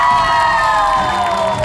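Studio supporters at a TV game show cheer and shout loudly in a dense, continuous crowd roar with high whoops, brief and alone.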